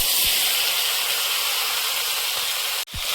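Vegetables with dried red chilli and five-spice (panch phoron) tipped into hot oil in a pan on a sunlit clay stove, giving a loud, steady, close sizzling hiss throughout with a brief break near the end.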